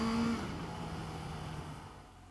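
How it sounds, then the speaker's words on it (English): A Suzuki GSX-S750 motorcycle engine idles with a steady low rumble, close by, holding a constant throbbing tone that slowly fades a little. "This bike makes a great noise even at idle."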